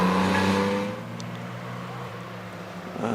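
A Mark II Triumph Vitesse rally car with a six-cylinder engine on a hillclimb at night: a steady engine drone that is loud at first, then fades and settles lower as the car moves away, heard alone.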